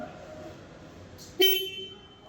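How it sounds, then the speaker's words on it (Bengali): After a quiet stretch with a faint hum, the horn of a CF Moto 250 NK motorcycle gives one short, sharp beep close by, then fades. "single horn"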